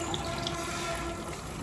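Tap water running steadily into a kitchen sink while raw chicken is washed, a soft continuous splash with faint trickling, no talk.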